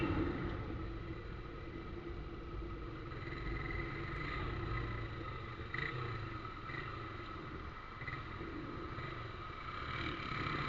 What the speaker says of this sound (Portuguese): Acabei de trocar o escapamento.